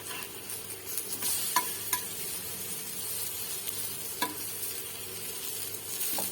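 A soft sattu paratha sizzles in a frying pan with a steady hiss, broken by a few sharp clicks and scrapes of a spatula.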